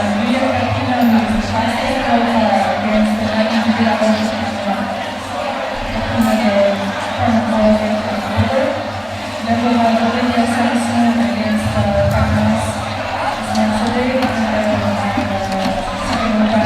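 A large crowd at a speed climbing World Cup final in Central Saanich sends up a steady, loud wash of cheering and chatter that continues the whole time, with a commentator talking over it.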